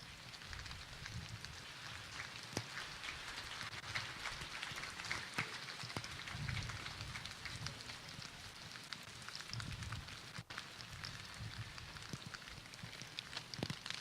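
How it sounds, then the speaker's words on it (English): Light rain falls steadily outdoors at a memorial ceremony, a faint continuous patter with scattered sharper drips and no speech. "This rain is quite poignant, isn't it?"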